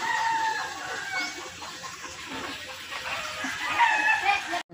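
Chickens cluck in a few brief calls at the start and again near the end, with a rooster's crowing among them over a constant outdoor hiss, at moderate distance.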